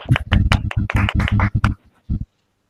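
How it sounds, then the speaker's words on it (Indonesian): A classroom of students claps together in bursts, loud and close, with a rhythmic pattern of strong beats that tapers into a few final claps before silence. "beri tepuk tangan dulu untuk kita semua"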